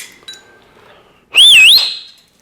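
A loud, clear human whistle used as a recall signal for a parrot, rising and falling in a wavy warble, about half a second long, sounded alone after a short faint noise.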